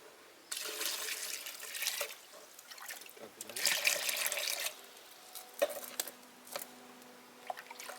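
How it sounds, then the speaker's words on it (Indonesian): An orchid being rinsed under running water, a faint splashing and trickling stream that comes in uneven bursts with small knocks and handling noises, recorded close and quiet. "Setelah ini kemudian kita bilas."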